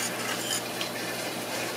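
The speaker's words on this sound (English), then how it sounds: "it's kind of boiling again here. I'll let that boil a few minutes" Garlic cream gravy for pork chops bubbles and simmers in an Instant Pot, giving a steady close hiss and crackle with faint clinks, no voices.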